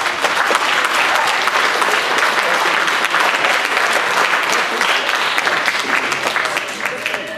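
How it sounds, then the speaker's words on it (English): Audience at a school spring band and choral concert applauding a conductor, a loud, sustained wash of many hands clapping, steady throughout and easing a little at the very end. "So let's give Devin a round of applause."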